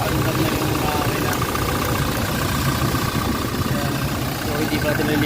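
A Toyota Fortuner engine idles after starting, following repair of an electrical and electronic no-start fault; a steady, even rumble runs unbroken and close throughout.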